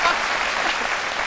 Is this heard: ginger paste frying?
no